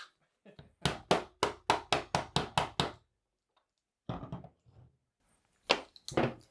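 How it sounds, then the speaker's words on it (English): A rapid run of about eight sharp hammer blows, evenly spaced, followed by a pause and a few more scattered knocks, close and loud. "while you're hammering"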